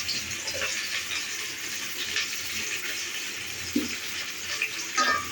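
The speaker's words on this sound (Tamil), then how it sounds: "ஆயில் காய்ஞ்சதும் வெங்காயம் போட்டுக்குவோம் வெங்காயம் நல்லா வதங்கணும்" Onions sauté in hot oil for chicken curry with a continuous, even hiss and sizzle, broken by a few faint utensil taps.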